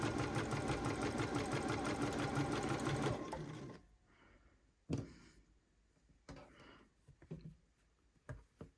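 A sewing machine chain-pieces quilt block patches in a rapid, continuous whirring run for about three seconds, then stops, leaving soft handling clicks and light taps nearby.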